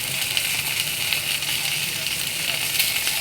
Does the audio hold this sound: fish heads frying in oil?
yes